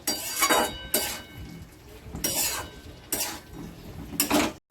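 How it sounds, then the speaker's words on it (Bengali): Cauliflower and potato pieces sautéing in hot oil in a pan, stirred in several loud scraping bursts with brief quieter gaps between, close and without talk. "এবার আমি এগুলো দিয়ে দিই, ভালো করে কষিয়ে নেবো। ফুলকপি আলু ভালো করে কষিয়ে নেব।"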